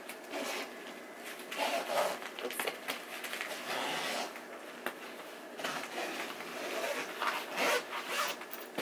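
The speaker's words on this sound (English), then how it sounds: "And then we can zip this up." Zipper being pulled shut around a packed suitcase, a scratchy rasping run repeated in several close, fairly loud strokes with brief pauses between them; someone speaks very briefly.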